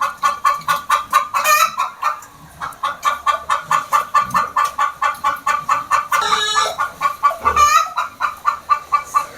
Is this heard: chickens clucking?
yes